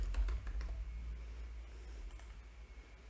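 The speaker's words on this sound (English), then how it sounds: "go to search and type domain verification." Quiet keystrokes tap on a computer keyboard in a short, steady run of soft clicks, faint against a low background hum.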